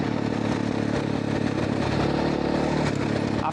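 A motorcycle cruises on a long Patagonian road in Argentina, its engine droning steadily and loud throughout while strong gusty wind roars over it.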